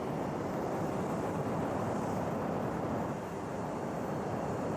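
A jet engine running in the BeamNG.drive driving game roars as a loud, steady, broadband blast that holds constant throughout with no pauses.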